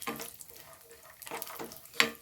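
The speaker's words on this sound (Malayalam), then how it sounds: "ആദ്യം നമുക്ക് ബദാമും അണ്ടിപ്പരിപ്പൊക്കെ ഒന്ന് വറുത്തെടുക്കാം കേട്ടോ" Almonds and cashews roast in hot ghee in a pan, giving a brief, close sizzle with stirring scrapes and a sharp metallic tap near the end.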